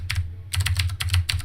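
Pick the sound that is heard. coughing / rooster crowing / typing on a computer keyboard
typing on a computer keyboard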